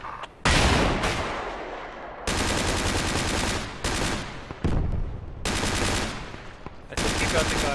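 Gunfire in the video game Project Reality: long, loud bursts of heavy automatic fire with short breaks between them, dense and close.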